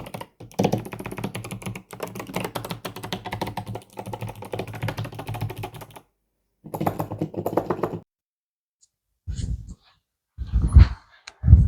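Keys clatter in dense bursts on an 8BitDo keyboard, a fast close-up run of typing that pauses, resumes briefly, then trails off into a few scattered presses and soft thumps.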